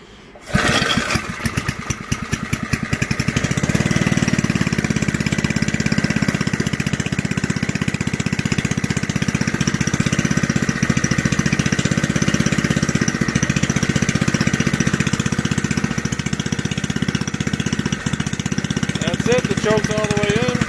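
A junkyard Briggs & Stratton small engine sputters into life and then runs steadily at half choke, a loud, even, close mechanical drone that carries on throughout.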